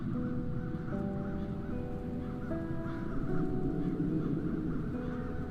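Crows caw in the video game The Dark Eye, harsh repeated calls set against a dense, droning background of sustained tones.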